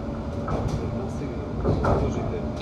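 A London Overground train on the Goblin line rumbles steadily from inside the carriage, with low continuous rolling noise and faint rail clatter, and an announcement voice speaks over it.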